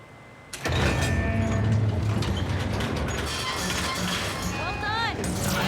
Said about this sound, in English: That crash was pretty loud.